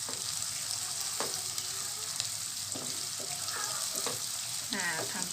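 Sliced onions sizzle steadily in a hot pan, a soft continuous frying hiss with occasional light clinks and stirring scrapes, close by and without speech.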